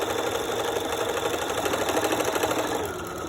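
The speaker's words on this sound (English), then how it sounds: "back stitch a couple times" A sewing machine runs continuously and close, back stitching elastic onto a fabric face mask, its rapid needle chatter steady before easing off slightly at the end.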